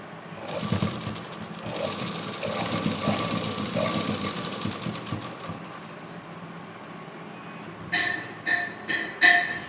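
Sewing machine runs in a steady close whir while stitching lace onto a kameez, then stops and restarts in several short bursts, with no speech.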